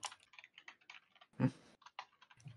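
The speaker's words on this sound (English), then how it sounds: "Someone's typing." Computer keyboard typing comes through an online call during a Super Crash League match, scattered quick key clicks with one heavier thump, fairly close and unaccompanied by talk.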